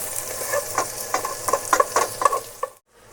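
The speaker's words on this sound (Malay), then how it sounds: "Kita bagi tumis dia sampai dia naik bau dan garing sedikit." Shallots and garlic sizzle in a hot pan as a utensil stirs them, with scraping bursts in a loose rhythm before it stops abruptly.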